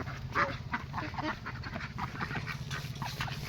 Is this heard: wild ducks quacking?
yes